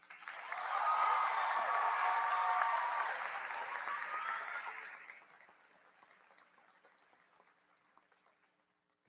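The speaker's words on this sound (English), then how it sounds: "Can we please recognize them with a round of applause?" An audience at a health professions commencement ceremony gives a round of applause, a full burst of clapping for about four seconds that thins and trails off into scattered faint claps and quiet.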